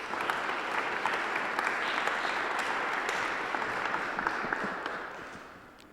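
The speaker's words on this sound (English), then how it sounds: "How about a round of applause for that?" Audience applause at a poetry reading, steady dense clapping from a crowd that holds for about five seconds before tapering off.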